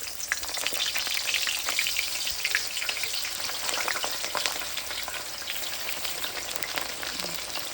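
Eggplant slices fry in hot oil with a dense, steady crackling sizzle that stays even and moderately close from start to finish, with no voices.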